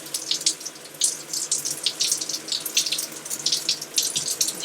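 An electric shower runs steadily, its water spray hissing close by in uneven surges with no voices over it.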